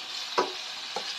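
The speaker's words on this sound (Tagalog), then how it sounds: "lutuin muna natin yung pork" Pork cooking in a pan for pancit bihon, a soft steady sizzle with two brief stirring scrapes, close and with no voices.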